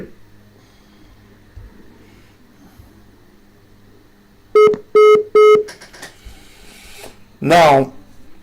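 Telephone keypad touch tones on a collect call: three sharp, evenly spaced beeps sound close and loud over faint background noise, followed by a brief higher chirping tone near the end.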